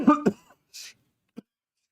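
A single person clears their throat with a short, gruff rasp near the mic, followed by a faint breathy hiss and a small click, with no talking.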